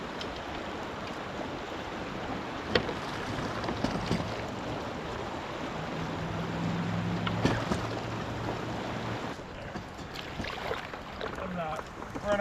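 Outboard boat motor running on a shallow river while fishing for smallmouth, a low steady drone beneath broadband water rush and wind noise, with a few knocks and splashes along the way.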